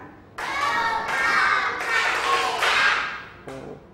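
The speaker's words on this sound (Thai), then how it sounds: "กลุ่มที่ 1ปรบมือ 5 ครั้ง" A group of students in a classroom clap five times together, the claps loud, close and somewhat ringing, landing in an even rhythm, with a brief voice at the end.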